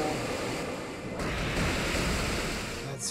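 A rushing water effect for the Waterfall move in Pokemon Alpha Sapphire, a broad whooshing surge that swells and holds like crashing surf, with a brief bright splash near the end.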